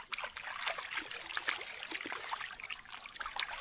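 Water splashes and trickles in a flooded rice seedbed as seedlings are pulled up: soft, scattered splashes and drips, fairly faint and close, with no voices.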